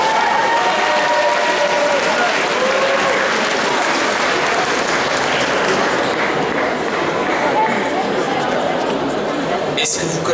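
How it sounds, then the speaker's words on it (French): Loud, dense audience applause at a cosplay contest and parade at a convention, continuous crowd clapping with cheers and chatter mixed in throughout. "On l'applaudit très fort, s'il vous plaît."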